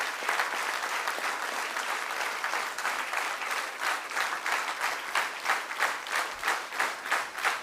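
An audience at a talk gives sustained applause that grows into rhythmic, synchronized clapping near the end, steady and moderately loud with no speech over it.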